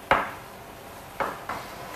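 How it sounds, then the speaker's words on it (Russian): A knife thinly slicing mushrooms, heard as three separate close cutting knocks: one at the start and two more near the end, with quiet between them and no talk. "нарезаем грибы довольно тонко"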